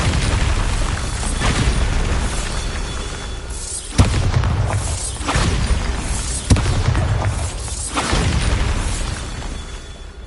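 A Bombarda explosion spell in a Harry Potter video game booms loudly, a heavy blast followed by rumbling debris and sharp pops, with a couple of further thuds over dense game noise.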